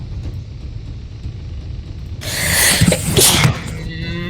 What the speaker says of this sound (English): Sneezed directly into the mic.